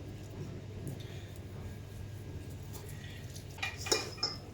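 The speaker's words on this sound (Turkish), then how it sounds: "Güzelce karıştırıyoruz." Red cabbage pickle salad with lemon and salt being mixed in a bowl, a quiet wet shuffle under low background hum, then a short burst of spoon clinks against the dish near the end.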